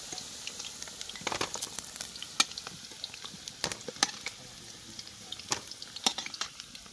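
Potatoes frying in oil give a steady sizzle with frequent crackles and pops, close up and fairly loud, with no voices.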